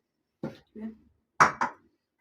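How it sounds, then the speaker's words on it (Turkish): A plate being taken out: a few separate clinks and knocks of crockery in a quiet room, two soft ones followed by two sharper, louder ones close by, with no talking. "Şimdi bir tane tabak çıkartacağım."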